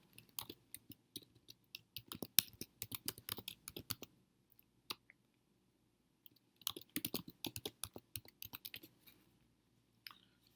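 Keys clack on a computer keyboard as a password is entered, two quick, faint bursts of clicking separated by a quiet gap, with a few stray taps near the end.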